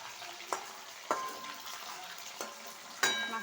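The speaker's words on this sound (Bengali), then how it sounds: "মাছটা ভাজা হতে হতে" Fish frying in a pan with a soft, steady sizzle, punctuated by a few sharp pops and spatters at irregular intervals, close and fairly quiet.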